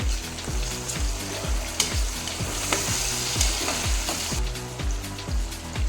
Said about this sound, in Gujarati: પછી આપણે તેને સાતળી લેવાનું છે